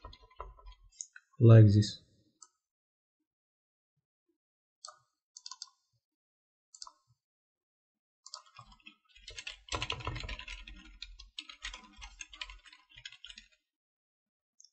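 Computer mouse clicks and brief bursts of keyboard typing during graphic design work, sparse single clicks early on and a denser run of typing later, with a short spoken remark near the start.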